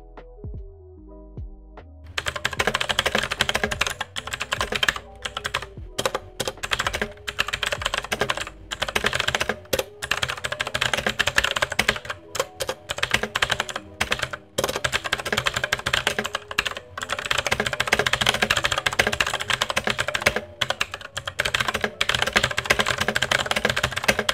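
Continuous typing on an Armaggeddon MKA 9C Pro mechanical keyboard with hot-swap PCB, a dense, steady stream of clicky keystrokes heard close and alone for over twenty seconds after a brief quiet start.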